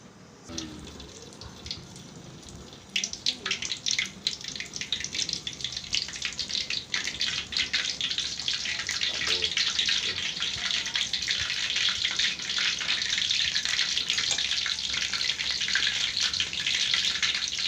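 Batagor fish dumplings dropped into hot oil, setting off a loud, dense, continuous sizzle that starts abruptly and holds steady close by.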